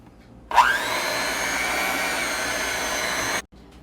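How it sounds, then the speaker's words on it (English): Electric mixer beating brownie batter, a loud steady motorized whir that starts abruptly, holds for about three seconds, then cuts off. "So we're going to give it another few rounds of mixes."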